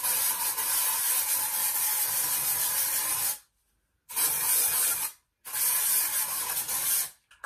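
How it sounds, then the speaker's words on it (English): Three long hissing sprays of aerosol dry shampoo into hair, each about a second or more, separated by short pauses, close and steady. "Your dry shampoo actually lasts longer if you spray it into your hair."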